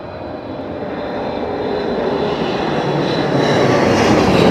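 Aircraft engine noise at Heathrow Airport in high winds, a steady broadband roar that swells slowly louder and rises in pitch, with wind rushing over it and no talk.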